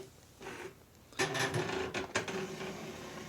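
Okidata 320 9-pin dot-matrix printer powering on, quiet at first, then a loud burst of mechanical whirring and rattling that sets in suddenly and runs on, with short sharp clunks partway through.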